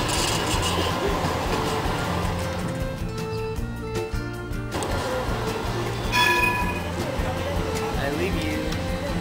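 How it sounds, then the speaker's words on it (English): Subway train rumbling steadily in Istanbul, with a continuous low mechanical drone and a brief squealing tone, heard from inside or near the train for the whole stretch. "We're going into the subway."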